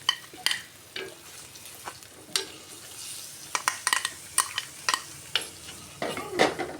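Crushed shallots and ripe, aromatic chilli fry in hot oil, with a close, steady sizzle punctuated by frequent spoon scrapes and clicks against the pan.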